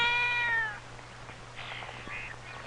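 A small kitten gives one clear, high, drawn-out meow at the start, then goes quiet, leaving faint rustling and a steady hum typical of an old 1950s film soundtrack.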